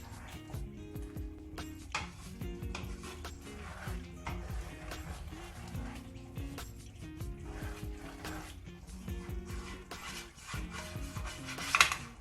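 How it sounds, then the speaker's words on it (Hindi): Whole masoor lentils (sabut masoor dal) are stirred in a cooking pot, with a steady scraping and rubbing of a spoon against the metal and occasional clinks, carrying on continuously at close range with a sharper clatter near the end. "और अब हम इसे अच्छी तरह मिक्स कर लेंगे।"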